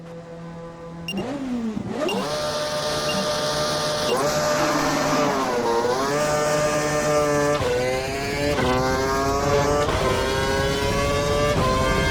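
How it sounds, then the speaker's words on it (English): Formula One car in the racing game F1 2012 accelerating hard down a track past 160 mph, a loud high-pitched engine whine climbing steadily through repeated gear shifts, continuous and close. "Head down the track accelerating past 160 miles per hour"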